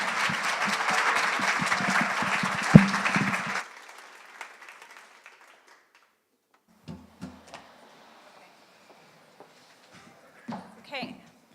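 A crowd at a cities and health finale event breaks into dense applause that holds for about three and a half seconds, then stops abruptly, leaving a quiet room with scattered footsteps and a few brief voices.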